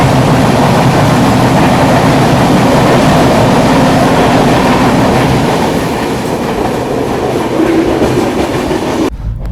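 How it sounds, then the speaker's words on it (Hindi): The Mandovi Express runs on the Panvel line near Diva Junction, a loud continuous rumble of rolling wagons with faint rhythmic clatter from the rails, steady throughout before cutting off abruptly. "अपनी ट्रेन अभी बढ़ रही है पनवेल वाली लाइन पर"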